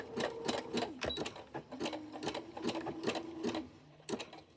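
A sewing machine runs a long zigzag stitch along fold over elastic, making rapid, even needle clatter in short bursts with brief pauses, close and clear.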